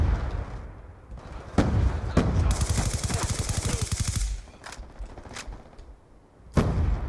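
Rapid automatic gunfire in the shooter Black Ops 2, a dense burst of close shots in the middle with scattered single loud reports before and after.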